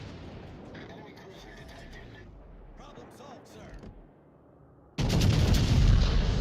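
Naval guns fire in World of Warships during a destroyer engagement: low rumbling game combat under a voice, then a sudden loud broadband blast of gunfire near the end.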